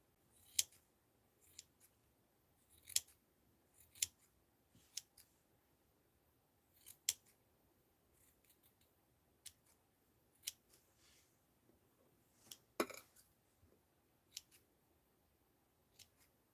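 Scissors cut up paper in a quiet craft setting, a scattered series of faint, crisp snips and clicks spaced a second or two apart, with near silence between cuts.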